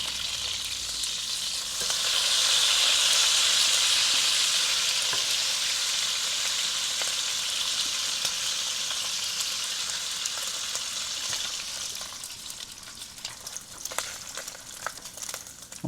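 Strips of bacon frying in rendered fat and oil in a pan, a steady close hiss and crackle that swells after the first couple of seconds and keeps sizzling evenly, with scattered pops toward the end; no voices.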